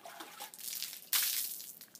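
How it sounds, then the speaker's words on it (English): Water from a hose rinsing the wheels of a bicycle, a steady splashing spray that surges louder partway through, close and alone with no voices. "Finish up with rinsing the wheels like that."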